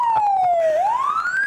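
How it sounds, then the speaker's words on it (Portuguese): An electronic siren wails loud and close, one tone sliding down and then sweeping back up over about a second and a half, with no voices. "Cadê a sirene?"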